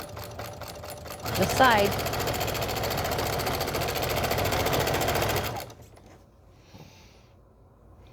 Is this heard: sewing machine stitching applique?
yes